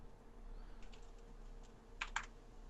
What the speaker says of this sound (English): can't type on my keyboard because it's too loud